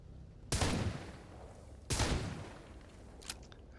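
Gunfire in the video game STALKER GAMMA: two loud, sharp shotgun-like blasts about 1.4 seconds apart, each with a decaying rumble, followed by a fainter short crack.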